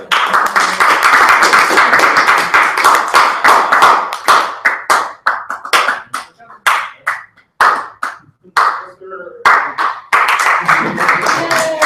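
Members at a TechMasters meeting clap together in a loud, ragged burst that thins into scattered separate claps and then swells again near the end, with some talk mixed in.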